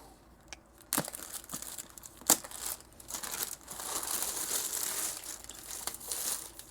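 Crinkling packaging tape on a box for a Fans Hobby Air Eagle VE-01 model, with sharp close crackles and snaps at first, then a longer stretch of steady rustling crinkle.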